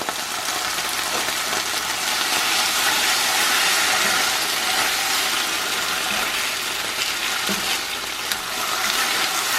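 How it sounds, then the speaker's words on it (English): Buffalo sauce sizzling and reducing in a hot pan, a steady broad hiss that holds evenly throughout, close and fairly loud, with no talking. "add a little bit more buffalo sauce to the pan because it's going to just reduce with the heat"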